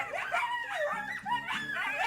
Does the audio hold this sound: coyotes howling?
yes